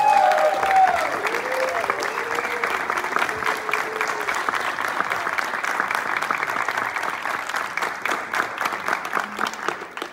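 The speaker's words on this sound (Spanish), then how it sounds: "fuerte el aplauso para nuestro coreógrafo, él es Memo Téllez" An audience at a cast presentation for the stage play "Perfume de Gardenias" applauds its choreographer with dense, steady clapping that holds for about ten seconds, a voice briefly audible at the very start.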